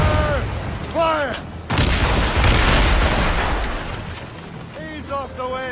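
Ship cannons in Assassin's Creed Rogue fire in heavy, booming blasts that roll into a long rumbling roar. Shouted voices and whistling sounds come through over the barrage.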